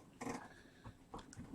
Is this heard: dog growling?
yes